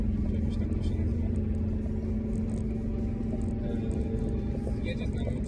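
Interior of a vehicle driving along the road toward Łęczna, a steady low engine and road rumble that runs continuously, with someone talking over it.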